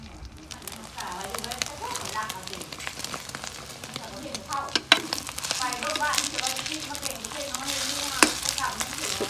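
Eggs frying in a pan, a continuous crackling sizzle with stirring sounds and a couple of sharp clanks, while people talk over it.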